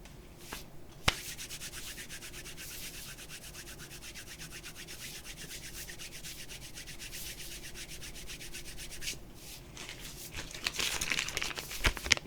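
A one-dollar paper bill is folded and handled, giving a steady close crinkling and rubbing of paper, with a sharp snap near the start and a brief burst of louder crumpling near the end.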